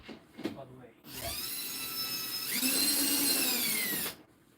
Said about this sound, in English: Slow turning with the drill so that I don't tighten it down all the way